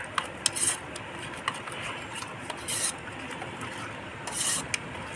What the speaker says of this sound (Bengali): ভালো করে মাখিয়ে নিতে হবে মশলাটা যেন সব জায়গায় মাখানো হয়